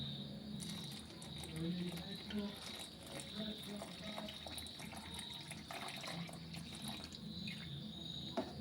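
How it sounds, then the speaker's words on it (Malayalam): Milk poured into a pot of ada pradhaman, a sweet dessert, making a soft continuous trickling flow, fairly faint and steady, with some background noise. "ഇതിലേക്ക് 1 പാൽ ഒഴിച്ചു കൊടുക്കാം"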